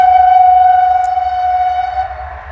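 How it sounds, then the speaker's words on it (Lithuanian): A small train sounds its horn in one loud, sustained tonal blast close by, holding for over two seconds and fading slightly at the end. "Biški vėl traukinukas važiuoja pypina."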